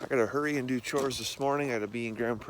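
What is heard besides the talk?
No everyday noises stand out.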